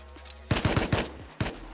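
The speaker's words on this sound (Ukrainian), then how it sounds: "Постріли." A rapid burst of about four gunshots from the survival video game Rust, then a single louder shot after a short pause, close and sharp.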